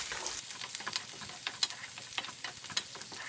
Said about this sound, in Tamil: இப்போ இந்த பூண்டு நல்லா எண்ணெயிலேயே வணங்கட்டுங்க சுருண்டு.